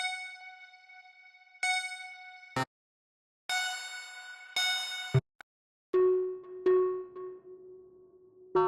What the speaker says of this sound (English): I want like a little bell sound that hit over and over again.